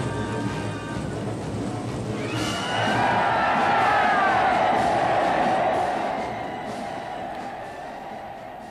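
A massed crowd scene from the restored film Spartacus: a great roar of voices swells over a sustained musical backdrop, peaks loudly in the middle, then slowly fades.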